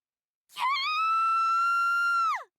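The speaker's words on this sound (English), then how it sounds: "A sudden shriek shakes the Kuramochi household, causing everyone to jump off the sofa." A single sustained high-pitched shriek in Root Film rises suddenly, holds steady and clear for about two seconds, then drops away at the end, standing alone in silence.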